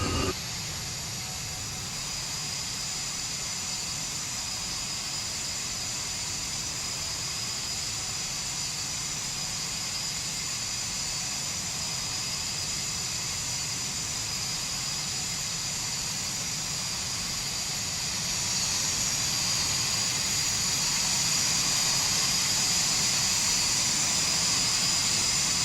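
A SEPECAT Jaguar jet engine in the FlightGear simulator roars steadily with a broad hiss and whine, then climbs to a louder, brighter pitch near the end as the throttle advances for the takeoff roll.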